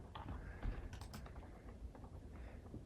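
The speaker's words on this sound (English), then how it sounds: "So an example is if I type uppercase M," Keystrokes on a computer keyboard while entering Java code, a steady run of light clicks and taps at close range with no voices.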